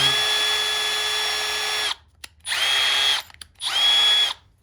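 A Milwaukee M12 FUEL 1/2-inch cordless drill/driver whirs loudly at different speeds in three bursts, a long steady run followed by two shorter ones separated by brief pauses, close and with no talking.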